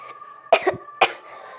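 Two short, sharp coughs sound close up, about half a second apart, with a brief rasp after the first, against near silence.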